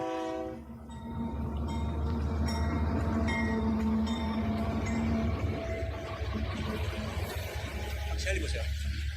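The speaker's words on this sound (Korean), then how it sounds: "그냥 기차 소리입니다. 기차 좀 옵니다." A train rumbles past up close and loud, with a long, steady horn-like tone sounding over the heavy, continuous rolling noise of the railcars.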